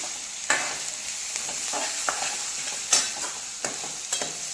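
Mixed vegetables stir-fried over a high gas flame for chicken manchow soup give a continuous close sizzle punctuated by sharp spatula clacks against the pan every half second or so, without any talking.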